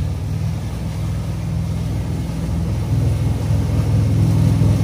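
A Malibu VLX wakeboard boat engine fitted with stainless exhaust silencers gives a steady, muffled low drone that swells slightly louder toward the end, with no talking.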